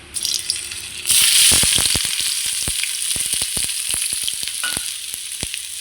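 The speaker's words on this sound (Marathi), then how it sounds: "तेल तापले आता तर कांदा टाकूया" Onions tipped into hot oil for a leftover-chapati chivda hit the pan with a sudden loud sizzle that settles into a steady close fry, with scattered crackles and pops throughout and no talking.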